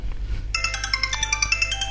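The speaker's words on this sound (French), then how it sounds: "Le téléphone qui sonne." A telephone rings with a short burst of bright electronic trills, a quick pulsing ringtone that starts abruptly after a brief lull and stays close and fairly loud.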